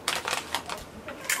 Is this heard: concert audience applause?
no